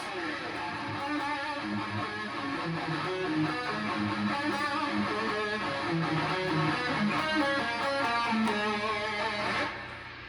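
Busy guitar lines with fast chromatic note runs over a full band texture, steady and loud, ending abruptly near the end.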